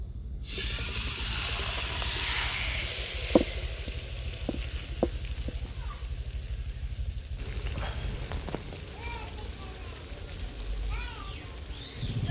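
A large river fish, about nine kilograms, is laid into hot oil with curry leaves and fries with a steady, loud sizzling hiss that eases after several seconds, with a few sharp clinks of a utensil.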